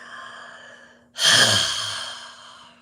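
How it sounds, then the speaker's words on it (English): A single deep breath blown out in one long, breathy exhale that starts abruptly and then fades slowly, close and alone over a faint steady hum. "Take a nice deep breath. Blow out."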